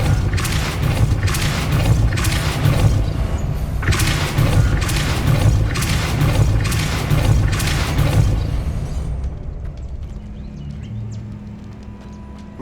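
Depulso spell impacts in Hogwarts Legacy land as a run of loud, evenly spaced booming thuds that stop suddenly, leaving a quieter low hum.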